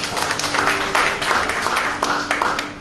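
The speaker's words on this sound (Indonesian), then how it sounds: "yang bersyukur berikan tepuk tangan bagi Tuhan" A church congregation claps in praise to God, a loud, continuous rush of many hands with a few sharper bursts, filling the short stretch without a break.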